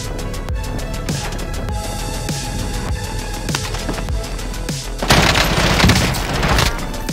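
Rapid gunfire in the video game Warzone, a dense run of sharp shots through most of the stretch with booming impacts, swelling into a louder, heavier burst near the end; no talking.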